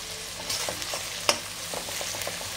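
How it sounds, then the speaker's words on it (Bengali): Chopped onion sizzles in hot oil inside a covered pan on a gas stove, a soft continuous crackle with small pops and ticks scattered through it, close and fairly quiet. "পেঁয়াজটা দিয়ে দিয়েছি তেলের মধ্যে।"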